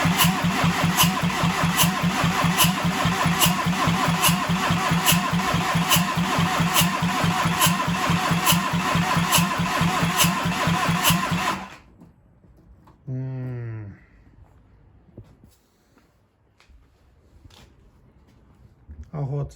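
A SEAT Arosa 1.9 TDI diesel engine turns over steadily on its starter motor for about twelve seconds in a loud, even rhythmic cranking, then cuts out and leaves near-quiet with brief clicks and a short voice.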